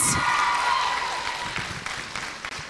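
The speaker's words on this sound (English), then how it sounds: "A round of applause, please, for Alliance High School." An audience applauds Alliance High School at a school debate competition, a burst of clapping that fades gradually over a couple of seconds.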